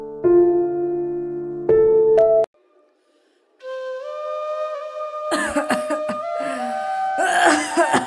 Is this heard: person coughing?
yes